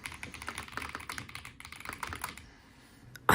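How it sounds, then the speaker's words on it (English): Rapid, even clatter of typing on a gasket-mount mechanical keyboard, close and fairly soft, with a dense run of keystrokes that thins out near the end before one sharp final tap. "I'm going to be quiet for a sec now so you can listen"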